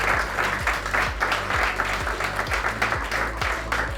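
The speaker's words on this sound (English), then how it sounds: "Give yourselves a round of applause" A steady round of applause from an audience at a charity golf day gathering, dense clapping filling the room, loud and close, with a low pulsing hum running underneath.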